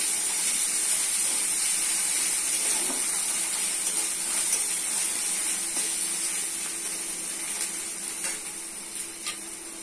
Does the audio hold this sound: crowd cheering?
no